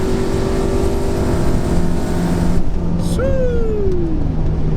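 A turbocharged Pontiac G8 accelerates hard in a long gear, its engine a steady loud drone heard from inside the car, followed by a rising whistle that sweeps downward as the gear changes.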